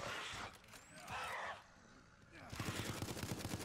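Rapid automatic gunfire rattles in the zombie game Resident Evil Resistance, a dense burst of repeated shots rising in the last second after quieter mixed game noise and voices.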